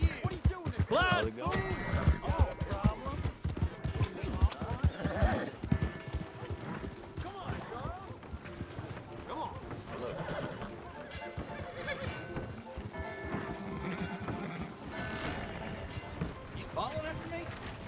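Horse hooves clip-clop and gallop through Red Dead Redemption 2 gameplay, with neighs and game sounds mixed under shouting voices.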